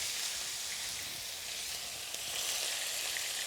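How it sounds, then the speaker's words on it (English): Tofu fries in oil in a hot wok, giving a steady, close, bright sizzle that holds evenly from start to finish with no talking. "And that sizzle noise tells you that the wok is hot enough."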